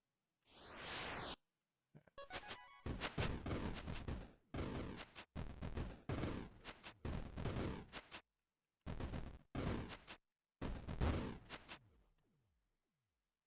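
Rapid bursts of Vulcan weapon fire in a video game, with a sweeping whoosh followed by a series of loud, dense rattling volleys separated by short silences, ending in a fading tail.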